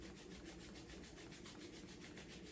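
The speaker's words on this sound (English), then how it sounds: "we're just going to rub the hands back and forth to create some warmth, create some heat" Palms rubbing briskly back and forth to build warmth during a yoga session, a steady soft friction rasp that runs continuously at moderate level with no talking.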